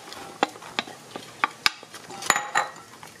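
Potato salad with Polish pickles, red onions and mayonnaise is stirred in a bowl, with a series of sharp, separate utensil clinks and scrapes against the dish, close and fairly quiet.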